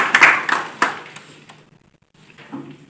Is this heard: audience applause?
yes